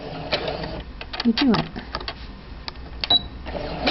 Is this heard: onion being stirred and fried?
no